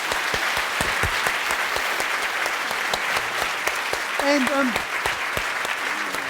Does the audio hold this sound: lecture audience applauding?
yes